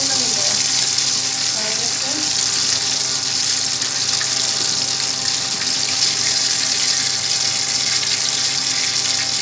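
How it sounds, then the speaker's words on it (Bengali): Chicken pieces frying in hot oil for a restaurant-style fried chicken, giving a steady, loud, dense sizzle that holds throughout without a break, with no talking over it. "ভালো করে ফ্রাই করে নেব।"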